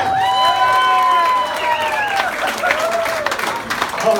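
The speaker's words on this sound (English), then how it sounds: "Big round of applause for Matt Bach!" Audience applauding and cheering for comedian Matt Bach at the Paul Bunyan Comedy Fest, a dense sustained wash of clapping that starts loud and tapers slightly, with voices in the crowd.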